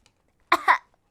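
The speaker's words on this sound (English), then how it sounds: "that's how we cough, right?" A single short cough, close and fairly loud, in two quick bursts against silence.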